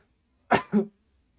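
Two quick coughs in a row from a hockey commentator, close and fairly loud, followed by silence.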